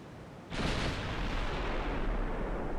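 A naval artillery salvo from the Ultimate Admiral Dreadnoughts naval warfare game: a sudden loud, broad boom erupts and then rolls on as a sustained, rumbling roar that fills the rest of the moment without any speech.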